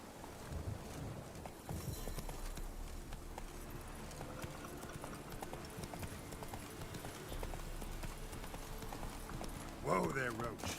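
Roach the horse clip-clopping its hooves in The Witcher 3, a steady trotting rhythm running throughout beneath game music and ambient noise, with a brief louder flourish near the end.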